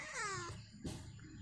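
A cat meows once, clear and close, during an early-morning feeding with fish being fried nearby. Steady background noise continues underneath.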